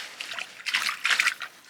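Water trickles and drips inside an old granite mine, a faint, close patter in short irregular bursts with quiet gaps between.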